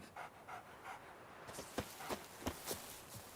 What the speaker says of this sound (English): Black dog. Shame you can't talk.